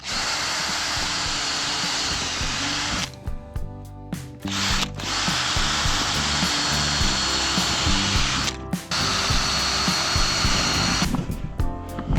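A power drill whirring loudly and continuously, briefly stopping and restarting twice as it bores holes through wooden wall studs in a cabin build.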